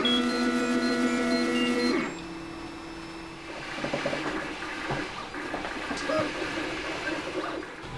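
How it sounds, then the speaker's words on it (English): 3D printer printing plastic spacers, stepper motors whining in a steady tone that shifts into irregular mechanical movement noises, moderately loud and close, with no talking. "here is the 3D printer about to begin the print job."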